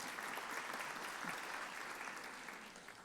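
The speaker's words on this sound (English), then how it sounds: "Sam Johnson would just love the idea he was getting a round of applause in Charlottetown, PEI" A lecture audience in Charlottetown, PEI gives a round of applause, a steady wash of many hands clapping, heard from a distance and fairly faint, with no one speaking over it.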